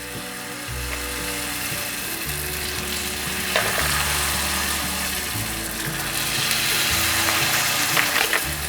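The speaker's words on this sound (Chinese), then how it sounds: "把海苔放进来炸" Nori seaweed deep-frying in hot oil makes a loud, continuous bubbling crackle close by, with occasional clicking and scraping from a utensil, no speech throughout.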